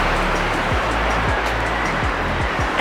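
Ocean surf washes steadily near a hotel infinity pool in Korea, a dense continuous roar of breaking waves with a low rumble beneath, heard close and loud throughout.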